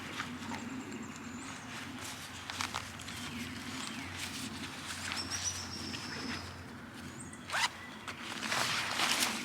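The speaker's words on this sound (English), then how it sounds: "I'm gonna zip it up." A zipper is pulled along the fabric hood of a bushcraft shelter in a forest. Several rasping zip strokes sound close against a soft outdoor background hum, with no voices.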